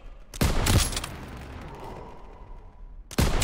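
Call of Duty WWII battlefield gunfire, a loud volley burst with a fading rumbling tail, quieter background crackle, then another sharp burst of shots at the end.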